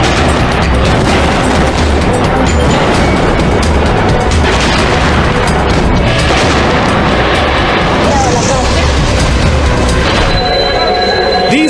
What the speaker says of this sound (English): A series of propane explosions rocks the neighborhood of La Chima.